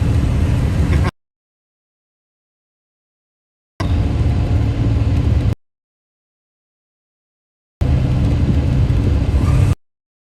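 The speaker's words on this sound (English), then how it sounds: "Love the sound of Jake brakes, huh?" Three bursts of loud, rough engine braking roar, each cutting off abruptly with silence between, like a truck's staccato exhaust brake rattling nearby.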